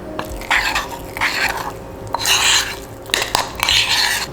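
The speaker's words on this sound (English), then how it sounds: "you're just gonna wanna mix this together pretty well before you add your fruit" A spoon mixes oats, protein powder and cinnamon in a bowl, giving close, uneven bursts of scraping and soft clinking that come in four or five short rounds with brief pauses between them.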